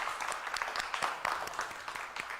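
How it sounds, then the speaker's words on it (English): An audience gives a warm round of applause for two guests on a stage show, dense clapping with irregular sharper claps standing out, steady and fairly close throughout. "Let's all give a warm round of applause for Chelsi Rhule and Demitrius Arnold"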